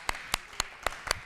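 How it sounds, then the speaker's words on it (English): Five sharp, evenly spaced hand claps ring out close and distinct as a small audience at a poetry recitation contest gives contestants a final round of applause. "Let's give them one more round of applause."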